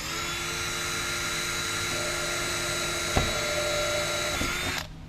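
A power drill driving self-drilling screws while installing a patio door panel whirs steadily at high speed, then a sharp click and a brief change in pitch before the motor winds down and stops.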